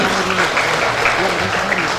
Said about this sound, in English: Let us give applause to everybody.